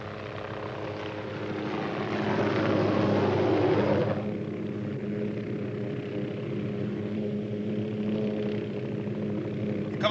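A helicopter flies nearby with a loud, steady rotor-and-engine drone for about four seconds, then drops back to a quieter, continuous hum that carries on to the end. No one speaks.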